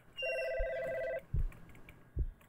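A telephone in the horror game God's Basement rings once, a steady electronic trill lasting about a second, followed by two soft low thumps; no voices.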